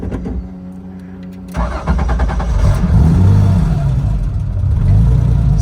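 A 1979 Porsche 911 hot rod cranks briefly, then fires up into a loud, close, rumbling idle that swells and settles, heard alone.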